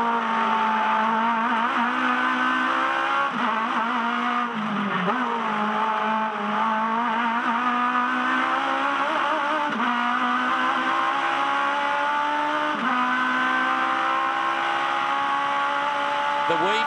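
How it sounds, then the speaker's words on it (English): An Aussie Racing Car engine on a hot lap at the Adelaide Clipsal 500 street circuit, heard from onboard as a loud, continuous high-revving drone that rises and drops with gear changes throughout. "This is a hot lap in an Aussie racing car."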